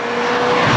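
A modified MK7 Golf GTI races past on a track, a loud sustained engine roar close by that holds steady and swells slightly over a brief moment.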